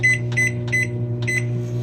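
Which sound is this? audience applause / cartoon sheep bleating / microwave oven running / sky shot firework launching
microwave oven running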